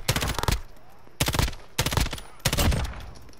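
Bursts of automatic gunfire in Call of Duty Modern Warfare, four rapid fusillades separated by short pauses, sharp and close, no talking.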